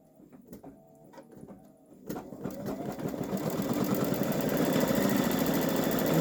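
A Babylock Solaris Vision embroidery machine stitching on a boys' t-shirt starts with a few scattered clicks, then builds into a fast, steady mechanical whir that keeps getting louder and stays close, with nobody talking.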